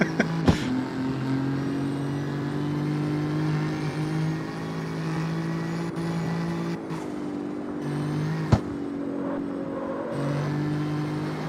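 A car with straight-cut gears whines steadily in the video game CarX Street, a sustained close mechanical drone that shifts pitch a few times, with brief clicks and no talking.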